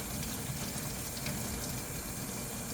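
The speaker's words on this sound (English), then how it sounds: "I'm gonna run hot water through both ends of the valve" Hot water runs through a positive crankcase ventilation valve from a Nissan Kicks 2.0L, a close, steady splashing hiss of flowing water that stays even and continuous with no other sounds.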